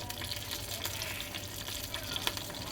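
Cumin seeds fry in hot oil, giving a steady sizzling hiss with scattered light crackles and pops throughout, moderately loud and close, with no voices.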